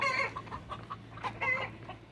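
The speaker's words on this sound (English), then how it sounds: "I've got some birds in the chicken tractor," Hens kept in a mobile chicken tractor cluck and murmur close by, a string of short soft calls over about two seconds with no talking.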